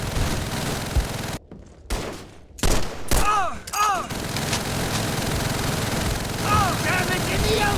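Enemy gunfire in Call of Duty 3, with loud bursts of rifle and machine-gun shots in rapid volleys, brief gaps, and shouted soldier voices mixed through the combat.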